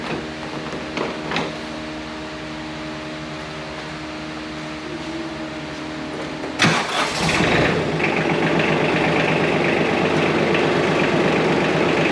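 A John Deere L120 lawn tractor engine cranks with a few short starter bursts, then catches and settles into a steady, loud idle close by; no talking.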